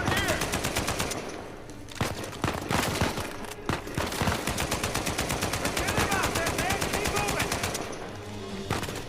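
Dense automatic gunfire from the video game Uncharted 4 rattles almost without pause, loud and close, with rapid repeated bursts layered over a busy battle background.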